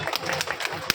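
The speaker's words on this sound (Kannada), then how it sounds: "ಬನ್ನಿ ಒಂದ್ಸಲ ಜೋರಾಗಿ ಚಪ್ಪಾಳೆ ಆನಂದ್ ಸರ್ ಅವ್ರಿಗೆ" Brief burst of audience clapping at a political gathering, a scattered crowd applauding at moderate level in an uneven rhythm with a sharper clap near the end, no talk.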